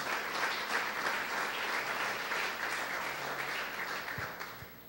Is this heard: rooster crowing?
no